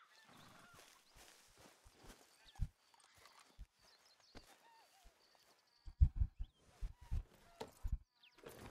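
Horse hooves thud unevenly on the ground in Red Dead Redemption 2, growing louder and quicker toward the end, with scattered game sounds and faint ambience behind.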